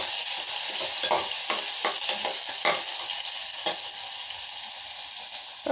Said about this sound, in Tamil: கருவேப்பிலை போட்டுட்டு வெங்காயம் போட்டு நல்லா வதக்கணுங்க